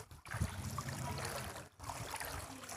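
Feet wade through standing floodwater on a street in Perumbakkam, Chennai, after Cyclone Nivar, producing soft, quiet sloshing and swishing splashes with a couple of brief pauses.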